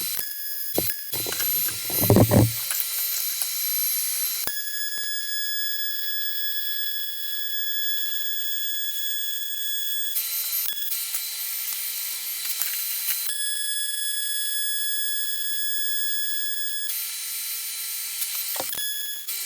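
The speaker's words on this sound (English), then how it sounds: "So I'm going to weld all this together now." Welding of round steel tubes for custom MX5 Miata rear wishbones: a steady, high, buzzing whine runs in long bursts that stop and start, with brief clanks of metal near the start.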